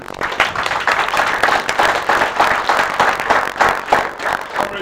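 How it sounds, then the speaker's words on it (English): Steady crowd clapping at a community meeting of residents protesting house demolitions, sustained for several seconds with a few louder bursts. "Another round of applause."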